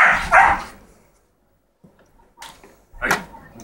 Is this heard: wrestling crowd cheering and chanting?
no